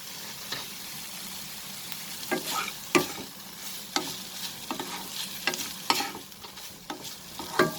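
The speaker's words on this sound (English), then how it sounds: "We will saute this over medium flame for a minute." Paneer toast mixture sautéing in a pan over a medium flame, a steady soft sizzle broken by sharp clicks and scrapes of a spoon stirring at irregular intervals, close and fairly quiet with no talking.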